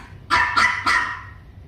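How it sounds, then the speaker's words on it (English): A Rottweiler barks three times in close succession. The barks are loud and near, spaced about a quarter second apart, with a quiet night background and no voices. "barking into the night"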